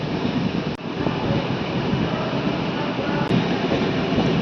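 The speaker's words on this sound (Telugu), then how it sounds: "నిడదవోలు నుంచి మన ట్రైన్ బయలుదేరింది." The Tirumala Express pulls out of Nidadavolu station, a steady dense rumble of rolling coaches and wind heard from on board, with a couple of brief knocks.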